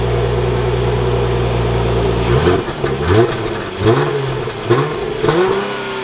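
A 2021 Dodge Challenger AWD idles steadily, then pulls away and accelerates, the engine note climbing repeatedly through several gear changes, loud and close with no talking.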